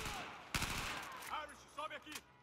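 Gunfire in Battlefield 4 cracks out in sharp bursts, with a few clipped voice-like sounds in between.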